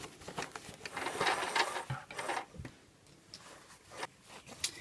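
Sewing machine stitching in a concealed zip, with short runs of mechanical whirring and ticking broken by pauses and small clicks as the fabric is stitched back and forth, close and fairly quiet.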